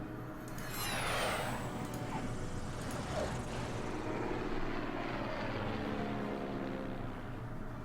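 Bomber aircraft flying in the strategy game Order of Battle, a continuous heavy engine drone with a sweeping swell near the start, loud and steady throughout.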